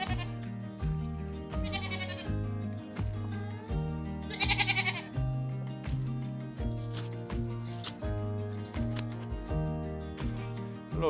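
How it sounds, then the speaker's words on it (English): Goats on a hobby farm bleat over and over, several loud, quavering cries close by against a busy rhythmic backdrop, with no talking. "You can hear the birds chirp and the goats chatter."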